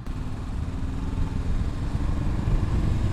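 A Honda CB 500 X motorcycle engine accelerates sluggishly with a steady low rumble that grows slightly louder toward the end, close by and without voices.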